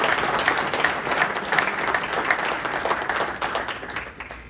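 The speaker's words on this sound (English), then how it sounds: "give yourself a round of applause for what you have accomplished" A crowd at a high school football awards banquet in Marion County applauds, a loud, continuous burst of many hands clapping that swells and fades slightly over a few seconds.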